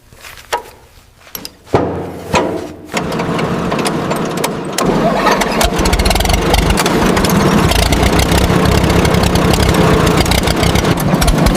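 A 1967 Chevy C10 short-bed truck is cranked over with a few clunks and catches, then settles into a loud, steady running idle close by.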